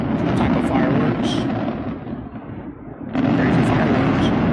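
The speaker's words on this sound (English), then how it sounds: "Some type of fireworks." Dense, continuous booming and crackling of fireworks bursting, loud and sustained, with a brief dip in intensity before the barrage resumes.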